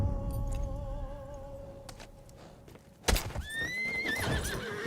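Horses whinny in a long, quavering neigh, then hooves clop and a second sharp, high whinny bursts in close, set in the Battlefield 1 video game with a faint background ambience.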